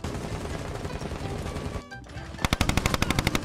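Rapid gunfire in the video game Rainbow Six Siege, a dense continuous stream of shots under game noise, a brief lull, then a loud burst of about a dozen evenly spaced, punchy automatic rounds close by.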